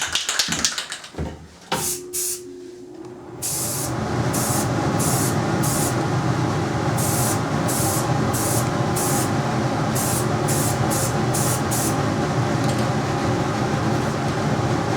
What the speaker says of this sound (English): So the first thing is simply to take and lay down the silver base coat